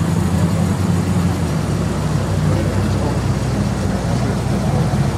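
An Audi RS6 4B with a 450 PS supercharged V8 rolls slowly past at a car meet in Steinfurt, giving a loud, steady low rumble that stays close and constant throughout.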